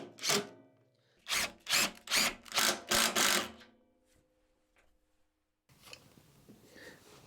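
A power drill drives self-tapping roofing screws with big heads into wood in a workshop, in several short, moderately loud bursts that start and stop in a quick rhythm before going quiet.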